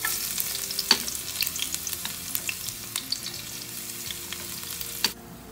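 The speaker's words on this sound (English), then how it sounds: "Kino lang gagamitin kong pang saute ng mga ingredients natin." Ingredients sauteing in extra virgin olive oil in a home kitchen, a steady close sizzle and crackle with occasional stirring clinks, running without speech until it drops away near the end.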